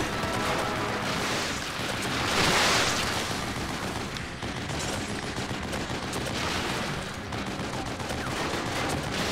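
Sustained machine gun fire in the horror game The Evil Within, a dense, continuous burst of rapid shots lasting several seconds, loud and noisy with no clear pauses.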